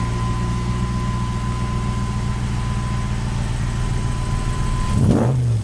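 A Chevelle muscle car engine drones loud and steady at a heavy, even idle, then surges briefly in a sharp rev near the end.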